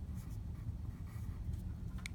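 Pencil writing a short word on paper at a desk during a phonics lesson, a soft continuous scratching close to the microphone, steady throughout with no talking.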